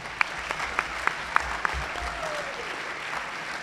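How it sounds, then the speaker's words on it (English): An audience at a high school fall sports awards ceremony gives a round of applause, a soft distant patter of clapping with a few sharper nearby claps standing out, fading toward the end. "give them a round of applause as well"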